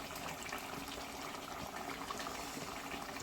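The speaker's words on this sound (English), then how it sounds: "I'm just going to add my water now" Water pours steadily into a pot of meat and potato curry, a soft continuous gushing and bubbling wash that stays quiet and even throughout.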